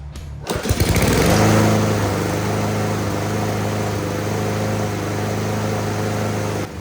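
Husqvarna HU800AWD riding lawn mower with a Honda engine starting up, then running at a steady loud drone with a constant hum, close by and with no voices.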